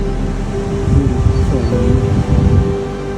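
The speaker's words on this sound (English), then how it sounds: "And the river." A river flowing beside a mountain trail on the Hampta Pass trek, a steady rushing wash of water with low rumbling surges, continuous and fairly loud, with no talk.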